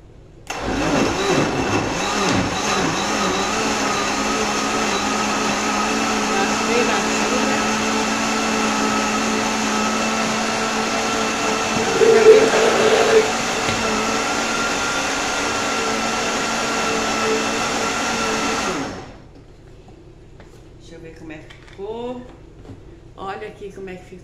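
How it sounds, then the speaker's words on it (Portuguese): A blender blending kale whirs loudly and steadily for nearly twenty seconds, briefly straining midway, then stops, leaving someone talking quietly. "Coloca a couve no liquidificador"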